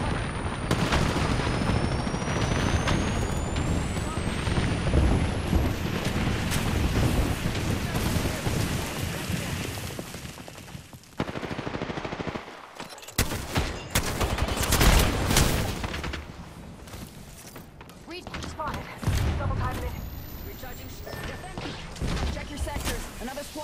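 Gunfire fills a video game battle in dense volleys of sharp cracks and rumbling blasts, broken by a brief lull, with a voice speaking amid the shooting.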